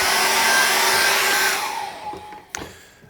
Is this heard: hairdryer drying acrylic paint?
yes